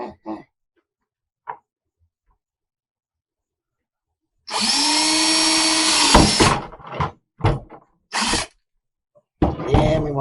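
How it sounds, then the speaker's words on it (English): Power drill boring a 3/4 inch hole in a plastic bucket, a loud whining run of about two seconds followed by several short bursts and stops, with brief quiet gaps between. "I'll drill a 3/4 inch hole a few inches from the bottom of the bucket."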